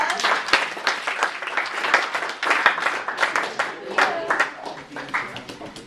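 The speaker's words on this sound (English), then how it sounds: "Give yourself a round of applause." Audience at an engineering student showcase gives a round of applause, brisk clapping from many hands that swells and holds for several seconds, with some voices underneath.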